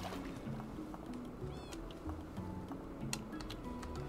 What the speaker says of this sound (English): Don't drown. Can't lose a cat.